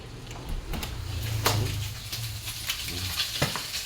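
Tomatoes frying in a pan, a close sizzle with stirring scrapes and occasional clicks of a utensil, steady and moderately loud.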